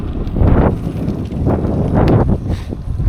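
A bicycle rattles over cobblestones in Denmark, a continuous bumpy clatter with strong rushing wind buffeting the microphone close up.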